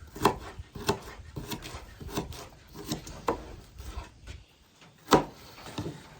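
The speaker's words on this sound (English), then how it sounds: "We'll just cut a chunk off of this onion here." A knife cutting a chunk off an onion on a board, a series of close, sharp chopping knocks at an irregular rhythm, with one louder thud near the end.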